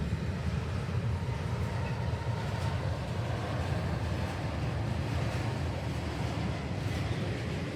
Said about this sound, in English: The train had various different types of rolling stock, including these interesting frame parts being hauled on some flat cars.